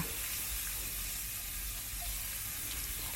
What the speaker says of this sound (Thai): ผัดให้หมูสับของเราสุกเลยนะคะ